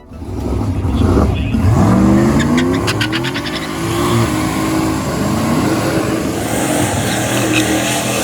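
Drag-race cars launching side by side in a no-prep final, engines roaring loud and close with tire squeal and revving that fade as they pull away down the track, crowd and announcer talk faintly underneath.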